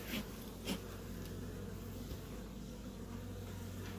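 Honey bees drone around an open hive during an inspection, a faint, continuous low buzz with a couple of brief closer passes of single insects.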